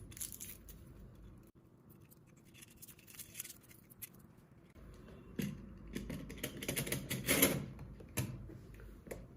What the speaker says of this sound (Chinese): 这个也是一样，把上面的保护膜撕开。